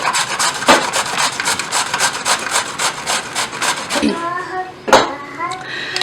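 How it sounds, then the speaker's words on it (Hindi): A pumpkin being grated on a hand grater, loud, rhythmic rasping strokes repeated quickly and close up, pausing briefly before a few more scrapes, with a voice speaking near the end. "कद्दू को जो है वो हम कद्दूकश कर लेते हैं।"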